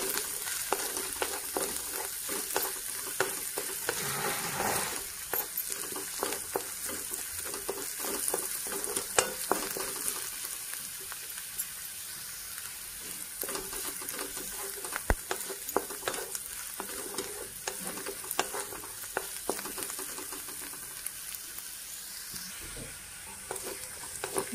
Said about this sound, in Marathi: आता आलं लसूणची पेस्ट टाकून घेते, म्हणजे दोन्ही पण चांगलं तळतंय।